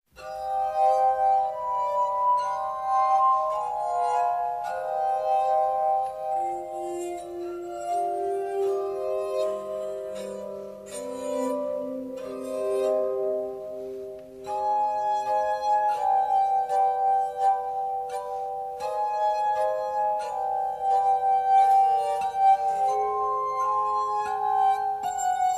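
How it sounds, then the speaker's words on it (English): Glass harmonica music plays alone for a long stretch, with clear, ringing sustained tones forming a slow melody over a low drone, bright shimmering overtones, and a brief pause midway before the tune resumes. "I'm going to play a little glass harmonica music for you"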